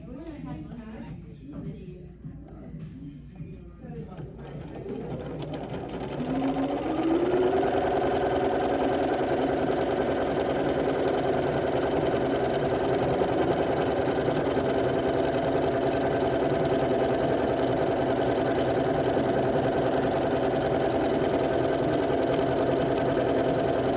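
A Bernina sewing machine stitches an automatic keyhole buttonhole on setting 12, with a steady mechanical hum and rapid needle chatter running close and continuous after a quieter start where someone talks.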